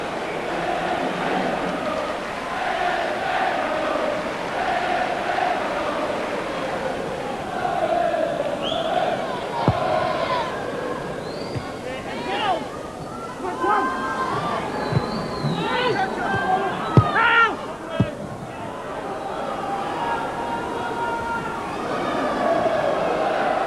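Football crowd at Turf Moor in Burnley, a gate of just over 10,000, gives off a steady murmur of noise throughout, with scattered shouts and whistles rising above it.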